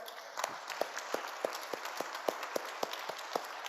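A few people in a church congregation clap in a slow, steady rhythm, each sharp clap distinct and fairly close, about a dozen beats over a quiet background.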